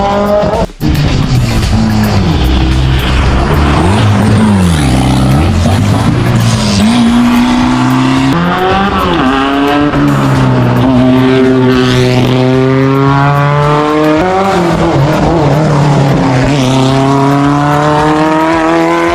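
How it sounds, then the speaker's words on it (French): Race cars at a local motor race roar past close by, loud engines revving up and down in repeated rising and falling sweeps with tire squeal, one sharp knock near the start, no talking. "le bruit que ça fait mec. Je pensais pas qu'il y avait une course comme ça à côté de chez moi"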